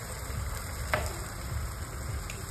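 Ground spice paste frying in a pan over a wood-fired stove at an outdoor night picnic: a steady, close, crackling sizzle that runs throughout, with a faint tap near the start and no voices.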